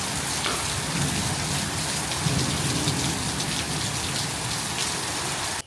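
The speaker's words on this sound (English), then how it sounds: "You said you wanted it to storm." Heavy thunderstorm rain pours down on a hot Florida summer night, a dense, steady hiss of drops hitting surfaces that continues unbroken before cutting off abruptly.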